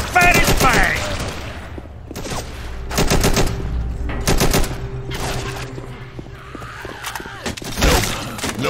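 Assault rifle fire in Left 4 Dead, loud repeated automatic bursts broken by short pauses, with a voice speaking between some of the bursts.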